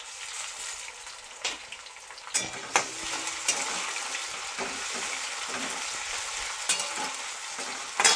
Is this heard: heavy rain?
no